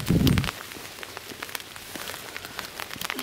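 Light rain patters on surfaces around, soft scattered drops with a brief louder rustle at the start; fairly quiet and close.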